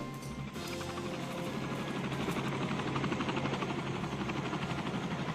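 A large helicopter in the video game Furby Island flies overhead, its rotor chopping in a fast, steady pulse under a broad engine roar that builds slightly, with no talk.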